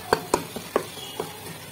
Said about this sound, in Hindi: चम्मच की मदद से इसे हम मैश कर लेंगे।